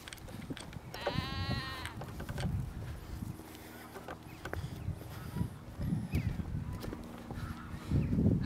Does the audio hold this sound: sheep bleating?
yes